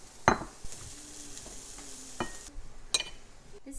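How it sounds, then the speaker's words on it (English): Chicken pieces sauté in a pan, a soft continuous sizzle broken by several sharp scrapes and clinks of a utensil stirring against the pan, close and fairly quiet. "It won't take long for all of the pieces to get a little sauteed"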